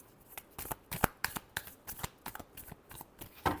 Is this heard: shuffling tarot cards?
yes